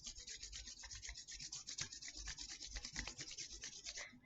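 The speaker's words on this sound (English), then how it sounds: "rubbing those little hands together" Two palms rubbing briskly together in a quick, steady back-and-forth rhythm, a soft dry swishing close to the microphone, quiet and continuous, no talk.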